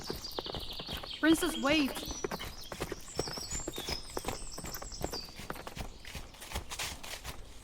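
Horse hooves clip-clop steadily as a sound effect in a fantasy audio drama about princesses, a continuous walking rhythm beneath a woman's urgent calls and a brief whinny-like cry.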